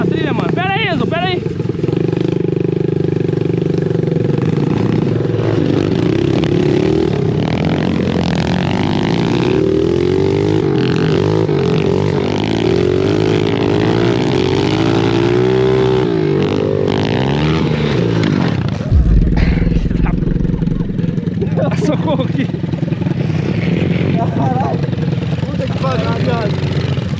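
Trail motorcycle engine revving and straining on a dirt trail, a steady loud drone with shifting pitch throughout, and a brief heavier burst near the end; voices shout over it at times.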